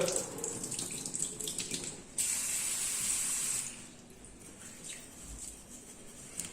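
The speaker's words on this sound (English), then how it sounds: "Drain off the water." Water splashes and trickles in a sink as washed mung bean sprouts are drained, surging to a louder gush midway before settling back to quieter running and drips.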